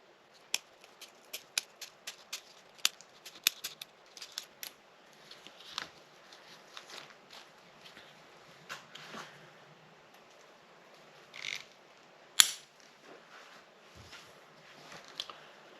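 Scissors cutting open the piping of a boat seat cover, a string of crisp close snips and clicks, rapid at first and then more scattered, with light rustling between cuts.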